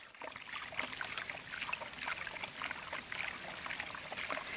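Nirma detergent and urea are stirred into about one litre of water to dissolve, producing a faint, steady trickling swish of sloshing liquid without speech.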